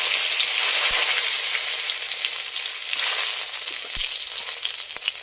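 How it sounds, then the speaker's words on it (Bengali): Dried red chillies and a bay leaf sizzle steadily in hot oil in a wok for a village-style mutton curry, a dense continuous crackle with a few soft knocks and no voices. "এখন আমি শুকনো লঙ্কা, তেজপাতাটা দিয়ে দেবো।"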